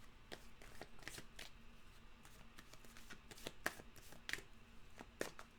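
Tarot cards being shuffled by hand, a steady run of crisp riffling flicks and sharp card snaps, close and fairly quiet, with no talking.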